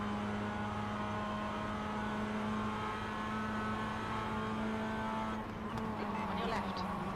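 A prototype LMP2 race car engine drones at steady high revs in a sim racing game lap at Long Beach, a continuous loud whine with a slight shift near the end and no clear talk.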